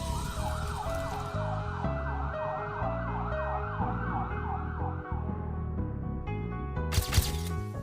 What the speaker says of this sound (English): Give way to the ambulance.